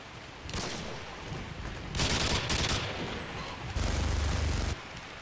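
A sentry gun in Modern Warfare 2 fires in several sustained bursts of rapid automatic gunfire, separated by short pauses, with dense crackling shots throughout the game soundscape.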